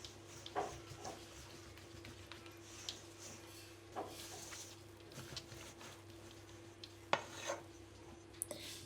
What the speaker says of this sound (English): Using a spatula, I'm folding it in until everything is well combined.